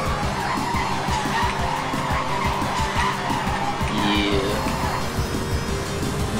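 Cars drifting with tires skidding and squealing in the SNES racing game Need for Speed, a loud continuous screech over engine roar and rapid rhythmic thumps, with no talk.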